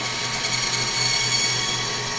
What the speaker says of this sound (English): he's slicing a 3 millimeter specimen down the long axis of a bone